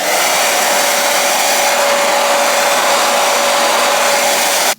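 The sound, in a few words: blow drying a lace frontal wig with a hair dryer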